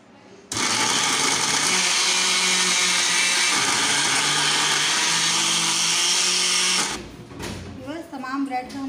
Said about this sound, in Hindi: बस जूसर में हम ये